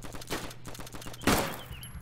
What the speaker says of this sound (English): Who's shooting? Who's shooting?